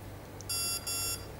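Two short, high electronic beeps in quick succession from a device, with a faint click just before them.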